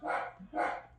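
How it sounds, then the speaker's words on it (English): A small dog gives two quick, sharp barks, close and fairly loud, with a short gap between them. "That's my little doggy that loves to bark for everything."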